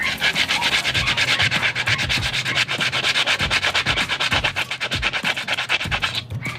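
A metal file is dragged repeatedly across a brake surface to score it, producing loud, close, rhythmic rasping strokes, each a harsh scrape in quick succession with no pause.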